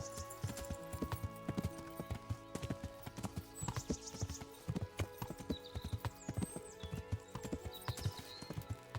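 Steady clip-clop of horse hooves trotting on hard ground in the video game Kingdom Come: Deliverance, a quick even rhythm with jingling tack and a faint whinny now and then.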